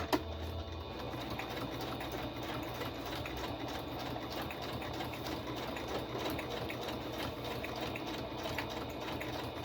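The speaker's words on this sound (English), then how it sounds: "I used just a simple straight stitch." A sewing machine running a simple straight stitch along a fabric edge, a fast, even mechanical whir with rapid needle ticking that continues steadily and close throughout at moderate volume.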